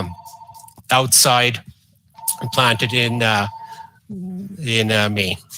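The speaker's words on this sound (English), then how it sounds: "sorry about the phone" A telephone rings indoors with repeated steady electronic tones, heard in short bursts between and under a woman's speech.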